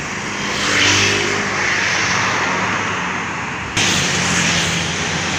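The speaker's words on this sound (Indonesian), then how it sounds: "Jam 4:04 ada bus Harapan Jaya Surabaya Kertosono Trenggalek." A Harapan Jaya bus on the Surabaya–Kertosono–Trenggalek route roars past at close range, its loud engine and road noise swelling, then holding steady with no talk.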